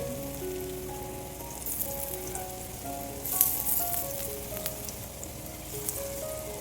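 Neer jackfruit slices frying in oil on a pan give off a steady close crackling sizzle, with a few sharper pops and spatters partway through.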